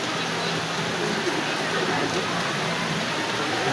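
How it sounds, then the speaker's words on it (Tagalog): Heavy rain pours down in a steady, dense broadband hiss that stays constant throughout, with faint voices murmuring underneath. "So puting ulan rin guys. Puting ulan."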